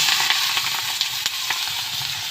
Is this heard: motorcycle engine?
no